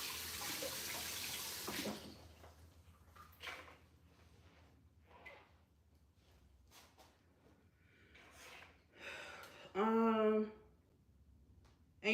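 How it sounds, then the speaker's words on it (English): A kitchen tap runs briefly while hands are rinsed during home Thanksgiving cooking, with soft splashing and clatter, then a short louder burst of running water near the end. "Rinse this off my hand."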